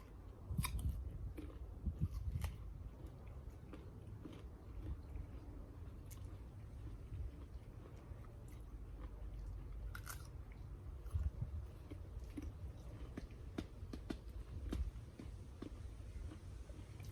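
Grandparents bite and chew persimmon fruit, soft crunching and mouth sounds scattered through a quiet room under a low background rumble, faint and close.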